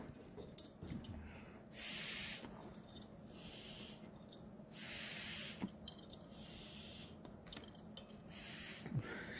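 An air vent on a single-pipe steam heating radiator hisses out air in three loud, sustained bursts of about a second each, separated by quieter stretches with faint ticks and creaks, close and with no speech.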